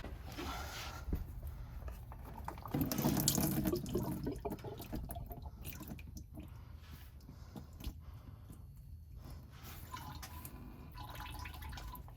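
Engine oil draining from a 3.0 Duramax Suburban on a cold day, a quiet steady trickle and patter of liquid into a pan, faint and continuous, with a brief louder splashing stretch early on.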